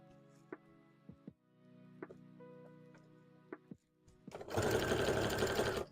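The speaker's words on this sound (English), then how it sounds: "They're sewing away." Sewing machine stitching hats, starting in short bursts with ticks and pauses, then running in a loud, steady, fast whir near the end.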